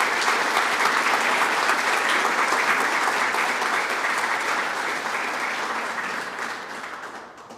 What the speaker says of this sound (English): if we could just have some applause for these two wonderful people